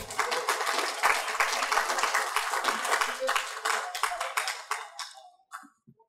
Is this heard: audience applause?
yes